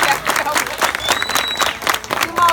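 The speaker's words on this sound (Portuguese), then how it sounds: "eu queria só uma salva de palmas para Jesus aí" Church congregation clapping for Jesus during a Portuguese-language sermon and testimony, a dense, steady patter of many hands with some voices mixed in, moderately loud throughout.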